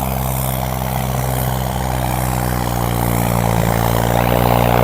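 A loud, steady Holland tractor engine drones continuously with a deep rumbling hum, close by and unbroken throughout.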